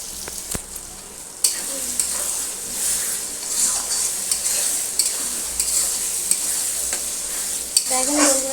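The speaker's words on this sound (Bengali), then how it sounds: "টমেটোটা প্রায় গেছে ভাজা হয়ে এসছে আর একটু নাড়াচাড়া করবো" Tomatoes frying and being stirred in a pan for a breakfast of luchi and ghugni, a loud continuous sizzle close by with frequent spatula scrapes and knocks against the metal.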